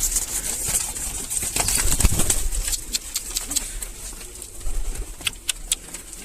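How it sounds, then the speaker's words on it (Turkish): Tumbler pigeons being let out of their coop, soft cooing mixed with sharp bursts of wing flapping, close and lively, scattered clattering flaps increasing toward the end. "Şimdi kuşlarımı dışarı çıkaracağım."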